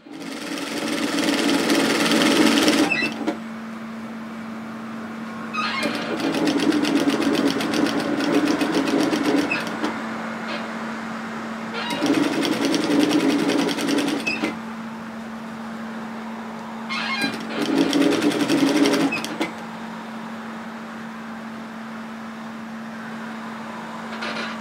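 Sewing machine stitching fabric for a shacket jacket, running in several loud sustained bursts of rapid needle hammering with short pauses between them, a steady motor hum underneath throughout.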